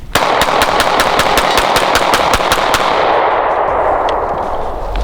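Canik MC9 Prime 9mm pistol emptied as fast as possible outdoors: about a dozen loud, evenly spaced sharp shots in quick succession, then a fading ringing tail.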